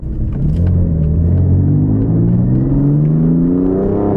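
A BMW F80 M3 / F82 M4 engine drones under load while driving, a deep steady rumble whose pitch climbs gradually as the car accelerates, close and loud with no talking.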